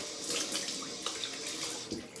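Cold water runs from a tap while shaving gel is rinsed off, a steady splashing flow with a few brief louder splashes, close by and with no voices.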